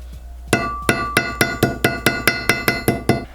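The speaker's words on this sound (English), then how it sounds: "I'm going to try and use a ball peen hammer and just tap this out" A ball peen hammer taps sheet metal to texture it for a handmade gift, about nine evenly spaced, ringing metallic strikes close to the microphone with a bright clink on each blow.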